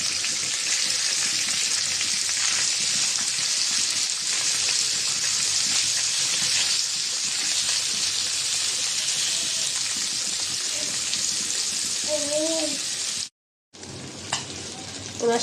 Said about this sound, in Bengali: এখন বাকি মাছগুলো ভেজে নেব।